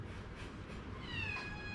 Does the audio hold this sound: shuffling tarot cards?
no